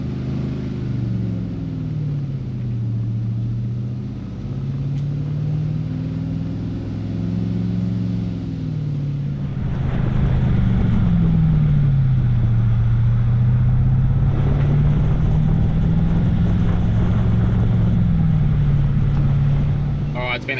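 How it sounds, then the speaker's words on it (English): A car engine pulls steadily in second gear while towing a caravan along the steep Bloomfield Track, a low drone rising and falling with a strong, constant rumble that grows louder midway, with wind noise over it. "So I'm just in second gear, letting the engine do some work, and just sort of tapping the brakes"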